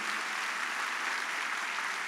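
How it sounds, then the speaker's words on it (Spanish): Applause from a congregation honoring fifty to sixty elderly adults at a church family sermon, a steady dense wash of clapping held at an even level throughout. "¿Qué tal si le damos un aplauso a ellos en señal de respeto?"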